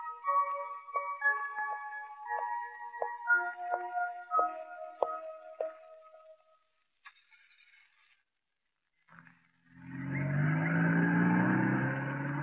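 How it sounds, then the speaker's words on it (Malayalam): A car engine surges in loudly and stays near for the last few seconds of a film scene, after tonal music fades into a brief quiet gap. "കാറിന്റെ ശബ്ദമല്ലേ ഞാൻ കേട്ടത്"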